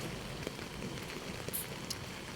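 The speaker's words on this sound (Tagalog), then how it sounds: "the rain is so bad." Heavy rain in Talisay City pours as a dense, steady hiss throughout, with scattered faint drips and taps and no voices.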